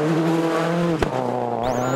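Ford Focus WRC rally car sliding sideways, its engine note held high then dipping, a sharp thump in the middle, and a rising tire squeal toward the end, close and loud.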